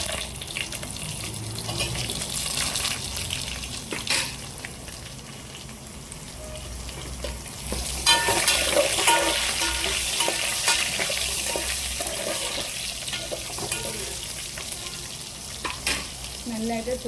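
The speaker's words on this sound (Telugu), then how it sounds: "ఫస్ట్ ములక్కాడ వేద్దాం." Drumstick vegetable pieces go into a sizzling tempering in a pan while cooking papu charu, a lentil stew. A steady, moderate frying sizzle continues, with stirring scrapes and a louder surge partway through.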